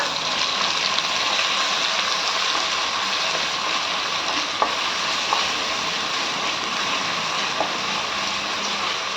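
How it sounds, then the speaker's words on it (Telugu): Ginger garlic paste fries in oil for chicken curry, giving a loud, steady close-up sizzle with only a few faint clinks throughout. "చూడండి ఎలా వేగుతుందో అల్లం వెల్లుల్లి పేస్ట్"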